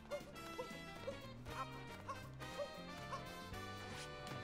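A dog in Super Mario Odyssey gives repeated short yaps at a regular pace over the game's steady background music, all fairly faint.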